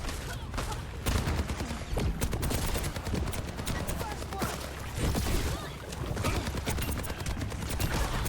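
Soldier: 76's rifle in the Overwatch video game, dense bursts of rapid automatic gunfire layered with game effects and crowded action noise, loud and continuous, with talk faintly underneath.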